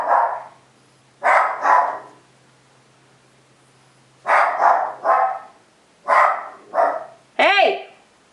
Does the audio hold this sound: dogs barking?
yes